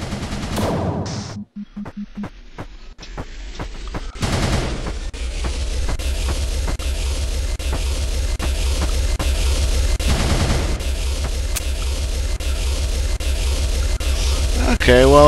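Rapid gunfire from the Murder Miners blocky shooter game runs almost nonstop, dense and loud, with a few heavier bursts standing out, while a player talks over the shooting.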